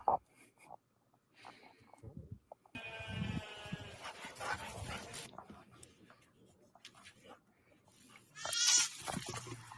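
Sheep in a herd bleating, several close, wavering bleats with snorts and rustling, one louder cry near the end, no talk.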